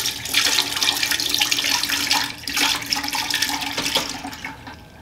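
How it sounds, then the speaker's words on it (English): Liquid from chestnut mushroom dye pouring and splashing through a strainer, a steady close watery rush with brief dips and no speech. "So let's strain some mushrooms. Let's do the chestnuts first."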